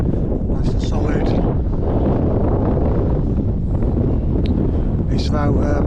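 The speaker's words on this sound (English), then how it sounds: "It's about 5 degrees today and it's windy, so it's freezing." Strong wind gusting outdoors on a freezing day, roaring steadily into the microphone as continuous low buffeting, with brief bursts of a voice talking near the start and end.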